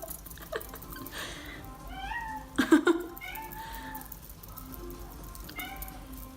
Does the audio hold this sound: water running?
no